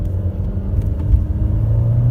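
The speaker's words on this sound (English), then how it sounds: "We're going to floor it." Engine rumble from a 2017 Honda HR-V with a CVT under full-throttle acceleration, heard from inside the car as a steady, loud, low drone rising slightly with road noise.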